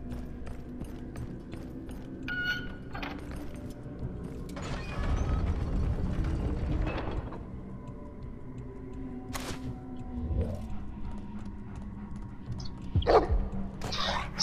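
Dog barking and growling in the Game of Thrones video game, scattered barks and growls among clanking combat and mechanical sounds, with occasional bursts of louder action across the stretch.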